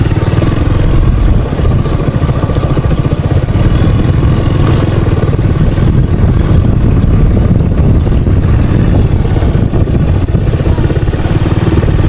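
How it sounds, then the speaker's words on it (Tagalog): A boat on a broad river in Lal-lo, Cagayan, its engine a steady low rumble mixed with wind buffeting the microphone, loud and continuous throughout with no talking. "Itong bangka."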